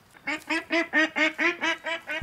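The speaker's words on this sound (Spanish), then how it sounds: "Pato salvaje, malditos patos" Wild ducks in the hunting game Way of the Hunter quack in a steady series of about nine evenly spaced, nasal calls, fairly close and clear, with no talking over them.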